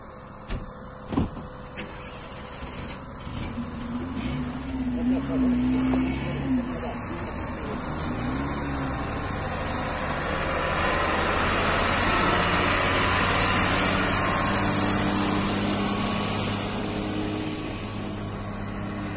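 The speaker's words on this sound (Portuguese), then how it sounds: "O caminhão vai subindo ali." Truck engine laboring uphill at the Jati dam in Ceará: a steady mid-pitched motor drone that swells and grows louder over time, with a few sharp knocks and clatters early on and brief vehicle noise up close.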